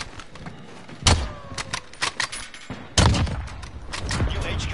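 Gunfire from the video game Call of Duty Warzone: two sharp bursts a couple of seconds apart, each a loud crack followed by rapid follow-up shots, over a busy background of game noise.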